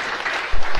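Audience clapping at an Ilocano-language sermon, a short burst of applause swelling from the congregation and growing louder toward the end.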